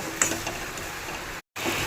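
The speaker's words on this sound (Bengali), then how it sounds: "এটাকে 1 মিনিট মতো ভালো করে ভেজে নেব।" Food fries in a pan with a faint, steady sizzle and a few soft stirring scrapes, then cuts out briefly near the end.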